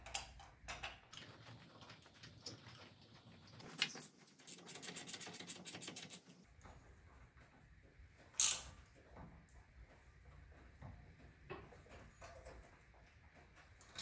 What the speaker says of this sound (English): then we'll use the bolt to tighten it down